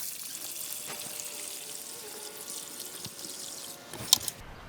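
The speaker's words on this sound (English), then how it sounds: "let's fill these saws with water and cut some tile" Water runs into the tray of a Dewalt tile saw, a steady soft pouring hiss with light splashing that continues evenly, ending in a couple of sharper knocks near the close; no one speaks.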